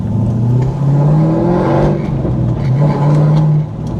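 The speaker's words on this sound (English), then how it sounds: "driving your little sports car, doing some pulls" A cammed C5 Corvette engine revs hard through an acceleration pull, a loud, steady, throaty roar with rising and falling pitch sweeps, heard from inside the car with no talking.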